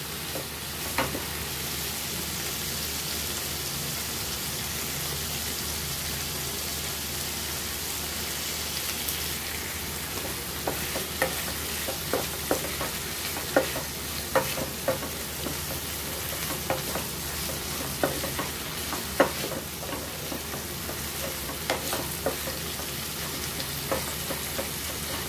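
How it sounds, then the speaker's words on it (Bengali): Small shrimp frying with pumpkin, tomato and salt in a pan, stirred as it cooks: a constant close sizzle, like light rain, with irregular clicks and scrapes of the spoon throughout, and no voices. "টমেটো, অর্ধেক টমেটো মিশিয়ে দেবো ভালো করে।"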